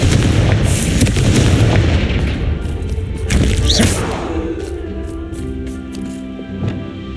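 Fiery Confringo spell blasts in Hogwarts Legacy, a loud booming burst with a rumbling crackle that swells mid-clip and trails off into lighter magical effects, with no talking.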